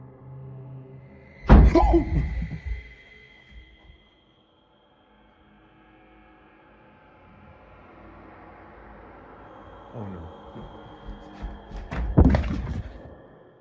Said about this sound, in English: a loud thud sounds from the next room